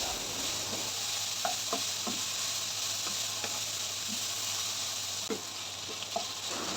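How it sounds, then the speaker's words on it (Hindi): Vegetables for a chicken pasta sizzle and hiss steadily in a pan, a constant close frying bed with a few soft stirring clicks scattered through it and no voices. "इसे वेजिस कुक होने तक पकने देंगे।"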